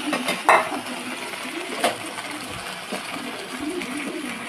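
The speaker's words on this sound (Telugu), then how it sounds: "దాన్ని బాండీలో వేస్తాను." Soft mashed peas for cutlets are dropped into a frying pan, giving a few close clatters and scrapes of cookware, with one sharp knock early and another a little later, over a low kitchen background.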